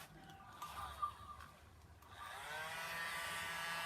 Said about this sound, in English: Here's the little mini blow dryer, which runs on a USB